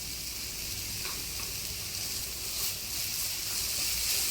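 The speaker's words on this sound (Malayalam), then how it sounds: "ഈ സമയത്ത് നമുക്ക് എന്ത് ചെയ്യാം, കുറച്ച് ഒരല്പം നെയ്യ് കൂടി ചേർത്ത് കൊടുക്കാം." Carrot burfi sizzles in ghee in a pan, a steady close-up hiss and crackle that grows slightly louder near the end, with no voices.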